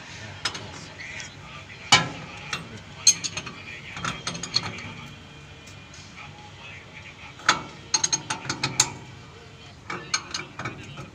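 Ratchet wrench clicking in bursts while working on a Mitsubishi Canter 136 PS truck engine, close and fairly loud, with mechanical clanks between runs of ratcheting and no speech.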